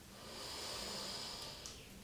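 One slow, soft inhale through the nose during a vinyasa yoga flow, a breathy hiss that swells and fades over about two seconds.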